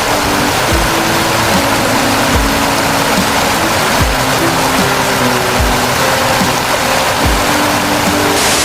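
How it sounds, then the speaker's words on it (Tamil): Water thunders steadily down a waterfall near a resort in Kerala, a loud, unbroken broadband roar that fills the whole stretch with no voices over it. "நம்ம ரெசார்ட்டுக்கிட்டேருந்து ஒரு 15 மினிட்ஸ் ட்ரெக் பண்ணி வந்தால் இதுமாரி பியூட்டிஃபுல்லான ஃபால்ஸ் பார்க்கலாம்"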